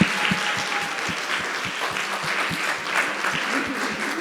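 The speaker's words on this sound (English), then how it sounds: "let's give them another round of applause" A college event audience gives a steady round of applause, dense continuous clapping with some rhythmic thuds underneath, moderately loud throughout.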